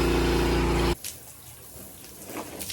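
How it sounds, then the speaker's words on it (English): Water flows steadily, rinsing muddy water from a clogged channel drain on a back deck. A loud, dense rush stops abruptly after about a second, and fainter splashing and dribbling continue. "keep that water flowing, and just rinse off the rest of that muddy water"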